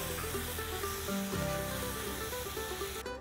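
Onions, peppers, garlic and beans frying in a discada with rendered ribeye fat, a continuous close, fairly quiet sizzle with no talking.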